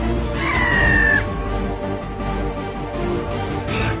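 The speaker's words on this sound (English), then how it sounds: "The black-headed gull." A black-headed gull gives a loud, harsh, drawn-out call near the start, followed by fainter calls from other seabirds on a puffin nesting island, with steady wind and surf underneath.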